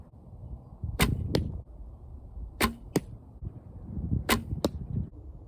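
Arrows fired during archery practice strike a target in three separate pairs of sharp impacts, each pair closely spaced, over a low background rumble.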